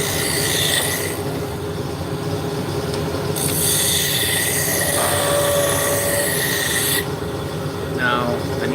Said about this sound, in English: I'm going to bring the diameter down with my roughing gouge